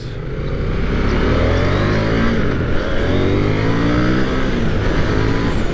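A 2023 KTM 890 Duke R motorcycle accelerates through the gears, its loud, close engine note climbing in pitch with each gear and dropping briefly at each shift.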